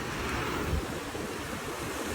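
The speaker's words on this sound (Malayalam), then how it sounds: "2 ഷട്ടർ വന്നിട്ടുണ്ട്. അപാര വെള്ളം ഒഴുക്കാണ്." Water surging through two opened shutters of the Biyyam backwater, a heavy, continuous roar of rushing flow mixed with wind buffeting, steady and fairly close.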